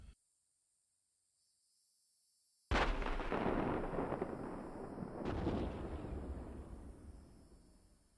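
In a video game, after a near-silent stretch, a heavy distant boom of main gunfire rumbles out and decays, followed a couple of seconds later by a second, softer blast.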